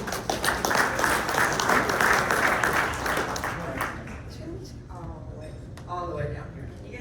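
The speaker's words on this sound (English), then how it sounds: "Let's give a round of applause." Room full of people applauding at a community morning event, dense clapping for several seconds before it thins out while voices begin to talk over the tail.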